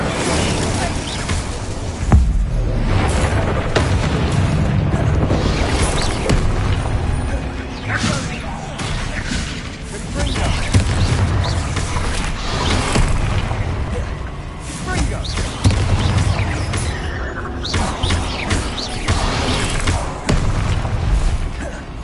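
Spell blasts from Glacius, Incendio, Accio and Descendo in the video game Hogwarts Legacy, a dense run of loud booming impacts and whooshes over game music, with a voice speaking under it.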